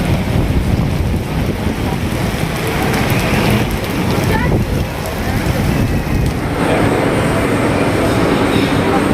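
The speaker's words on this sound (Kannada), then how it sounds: "ಜೋರು ಮಳೆ, ಗುಡುಗು ಸಿಡ್ಲು ಮಿಂಚು." Heavy rain pours in a dense, loud, unbroken roar throughout, with occasional rumbles that could be thunder mixed into the noise.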